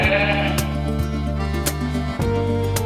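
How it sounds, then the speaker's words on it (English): A sheep bleats loudly and close up, a sustained wavering cry with brief breaks and no talk. "This is a sheep."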